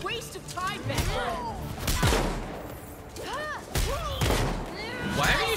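Shotgun blasts crack out in Gotham Knights as several loud, spaced shots amid battle noise, with voices talking between and over them.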